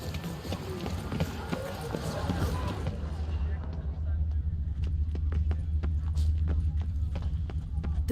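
Hooves of Roach, Geralt's horse in The Witcher 3, clip-clop at a steady trot, then slow to sharp, spaced individual hoof strikes on hard ground while someone speaks.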